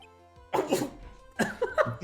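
A character in the Ace Attorney video game coughs in two harsh, separate bursts, close and fairly loud against a quiet background.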